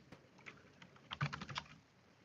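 Keys on a computer keyboard are tapped in a short, quick burst of clicks, close and fairly quiet, with no voices.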